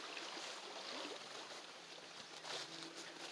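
Rain-swollen water rushing over a covered rock area like a small waterfall, a broad steady roar of flowing water heard up close and fairly loud.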